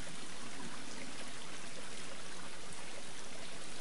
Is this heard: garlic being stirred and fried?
no